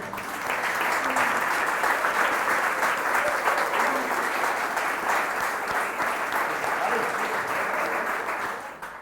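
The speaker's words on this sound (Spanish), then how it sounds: "Les pido un aplauso para el señor rector y para todo el equipo de gestión." Audience at a Human Rights Day ceremony applauding the rector and management team, sustained dense clapping at full strength for about nine seconds before tapering off at the end.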